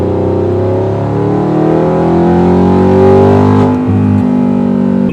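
Audi R8 with a V8 engine and full titanium exhaust accelerating hard from a standstill, a loud, close, continuous engine roar with rising harmonics climbing through the gears and a brief dip as it shifts.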